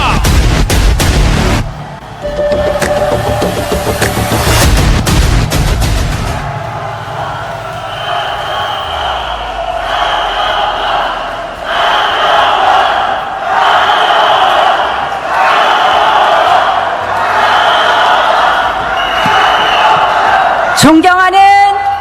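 A large crowd of party members claps and cheers steadily at a People Power Party national convention joint speech rally in Daejeon as a leadership candidate takes the stage, loud and sustained, with a denser burst of sound at the start.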